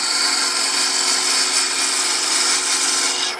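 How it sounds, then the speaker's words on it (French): A parting tool cutting a groove into wood spinning on a lathe between centres gives a loud, continuous, steady hissing scrape, close up and without pauses. "Le couteau à saigner, comme je l'ai dit, on vient faire une saignée"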